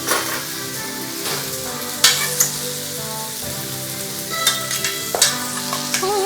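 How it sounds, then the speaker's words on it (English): A chilled honey mixture being stirred in a kitchen, giving a steady wet swirling sound with a few sharper clinks, close and fairly loud, with no voices. "And then I'm just going to give this a nice stir."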